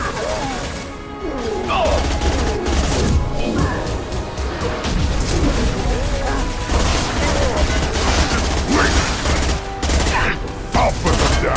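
Combat in the Mass Effect 2 video game: dense crashing impacts and gunfire-like bursts run throughout, loud and continuous, with shouted voices and scattered effects mixed in.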